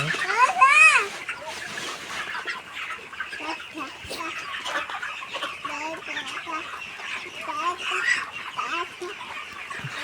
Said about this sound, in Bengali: মুরগি ডাকতেছে।